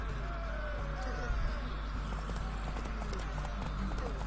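Steady clip-clop of horse hooves at a running pace in The Witcher 3, with continuous rumbling ambience and faint background voices.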